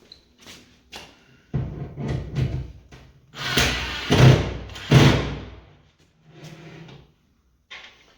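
An IKEA cabinet drawer is pushed into place several times, giving a series of rough sliding scrapes and wooden thumps close by, ending in a couple of lighter knocks.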